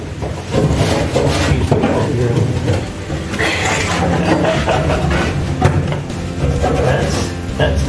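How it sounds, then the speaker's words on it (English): A plastic scraper drags steadily through Rhino spray-on bed liner softened with CitriStrip, making a continuous rough rubbing rasp, close and fairly loud, throughout. "you can use a plastic scraper. That's the way we're going to do the bottom of it"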